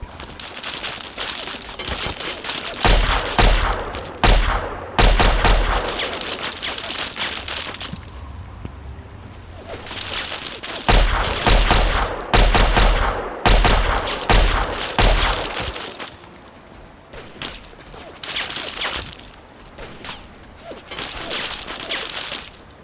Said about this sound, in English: That is a guy with a minigun, which is bad.